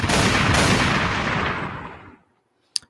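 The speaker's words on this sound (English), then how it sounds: "Gunshots." Gunfire from the TV series White Collar: a dense, sustained burst of loud shots roars for about two seconds, then fades out, followed by a single sharp shot after a pause.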